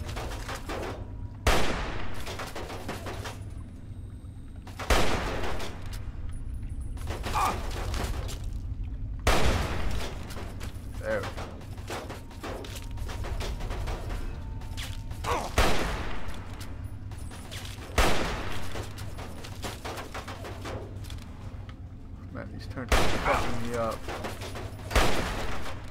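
Rifle shots in the video game Fallout 3 crack out as loud, sharp reports spaced several seconds apart over a steady low game ambience, with someone talking between them.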